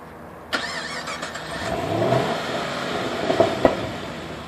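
A 2014 Chevrolet SS sedan's engine turns over and rises into a steady rev, building gradually with a couple of sharper bumps near the end, recorded close.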